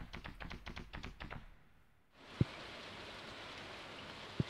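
Rain in the farming video game Stardew Valley: steady, soft hiss of rainfall that starts after a brief pulsing tonal passage, with two sharp clicks over the drizzle.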